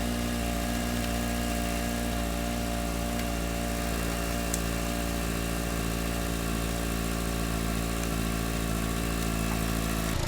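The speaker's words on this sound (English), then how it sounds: "all we have now is normal engine noise, and she's running a lot smoother than she was" A Chevrolet Sonic RS engine idles steadily after a coolant temperature sensor replacement, a smooth even hum running continuously at close range with no talk over it.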